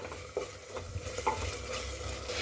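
Spices with black pepper and red chili powder frying in a pan, a soft continuous sizzle with scattered light scraping and clinks of a spoon stirring, fairly close.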